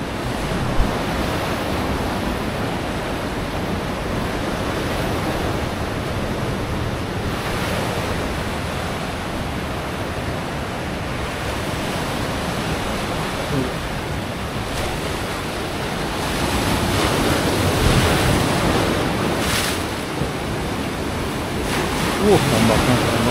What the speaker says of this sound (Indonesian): Ombaknya keren banget.